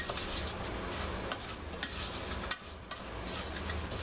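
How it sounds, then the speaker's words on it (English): Hot fish broth poured into risotto rice in a pan brings a dense sizzling hiss, with stirring and scraping against the pan and a brief dip and clunk partway through. "bit by bit I'm going to start adding my hot fish broth"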